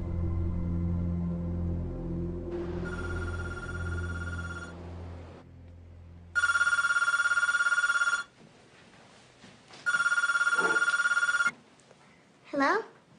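A telephone rings in three loud, steady electronic bursts separated by pauses, following low rumbling music at the start, with a brief voice near the end.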